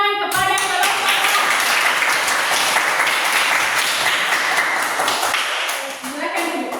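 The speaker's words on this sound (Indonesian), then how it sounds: "berikan tepuk tangan kepada kelompok A" A room full of people claps for a group of performers, loud and dense from start to finish, the patter easing slightly near the end as a few murmuring voices show through underneath.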